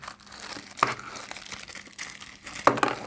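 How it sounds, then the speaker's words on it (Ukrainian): Plastic packaging of a Ulanzi ST01 phone holder crinkles and rustles close by, with two sharper crackling bursts as it is pulled open. "Давайте я все ж таки розпакую."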